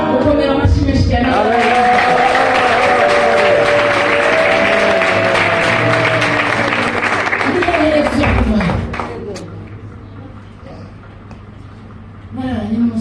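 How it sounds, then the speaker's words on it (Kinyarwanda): Loud applause from a crowd at a church gathering, sustained under a voice and tonal music for about eight seconds before dropping away, then briefly swelling again at the end. "gukomera amashyi menshi cyane"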